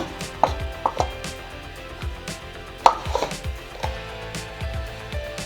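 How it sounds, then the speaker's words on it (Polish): Knife chopping millet-paste ingredients on a cutting board into smaller pieces, with a run of irregular crisp thuds and taps, a couple of louder strikes standing out, close and alone without talk. "Należy je pokroić na trochę mniejsze kawałki, żeby się dobrze miksowało."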